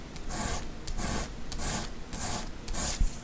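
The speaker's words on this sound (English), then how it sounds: "when I sand things by hand, I like to do it one way, and then I like to turn it around and do it the other way" A car part from a 1992 Corvette side bolster switch repair is sanded by hand, close up, with steady back-and-forth rasping strokes in an even rhythm, roughly two strokes per second.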